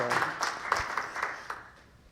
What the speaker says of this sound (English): right now, I'll just ask you to give some applause